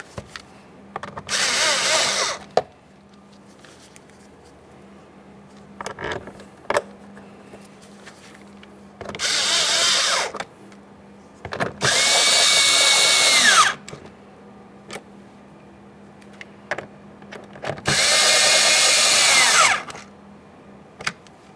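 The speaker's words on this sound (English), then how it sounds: "We have our two 7mm mounting bolts. Go ahead and start in each of those and we'll snug them up." A power drill runs in four loud bursts of a few seconds each, snugging two 7mm mounting bolts into the front door of a 2015-2020 Ford F-150 during a window motor and regulator replacement, with quiet pauses between bursts.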